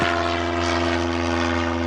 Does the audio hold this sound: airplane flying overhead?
yes